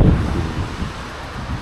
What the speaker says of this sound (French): le vent, il me vient directement au visage et c'est compliqué